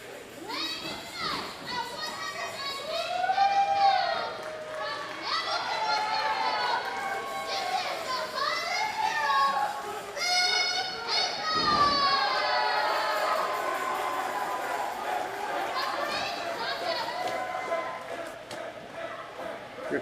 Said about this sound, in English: they were definitely cheering for Lionel